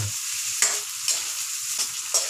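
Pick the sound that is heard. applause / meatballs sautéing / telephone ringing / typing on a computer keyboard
meatballs sautéing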